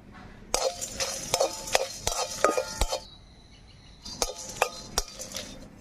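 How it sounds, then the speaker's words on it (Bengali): Dry red chillies, whole garam masala, peppercorns, bay leaf, cumin and salt rattle and scrape in a pan as a utensil stirs them, with sharp clinks in two bursts separated by a brief pause. "শুকনো লঙ্কা, গোটা গরম মশলা, মরিচ, তেজপাতা, আর তার সাথে জিরে আর লবণ একসাথে ভেজে নেব।"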